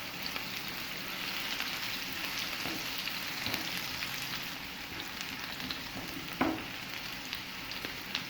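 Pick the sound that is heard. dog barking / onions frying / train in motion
onions frying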